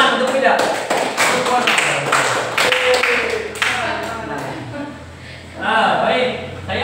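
Audience clapping in a room at a speaking event, a burst of hand claps layered with voices talking over it, fading and then picking up again.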